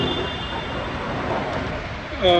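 Interior of a Bengaluru Namma Metro train on the Green and Yellow lines, a steady broadband rumble of the moving carriage with a brief squeal and tonal chime near the end.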